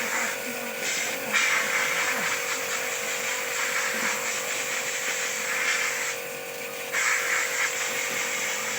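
A pressure-washer water jet blasting through the clogged radiator of a Kaset Pattana combine harvester, making a loud, steady broadband hiss over a constant engine hum, with brief dips in the spray.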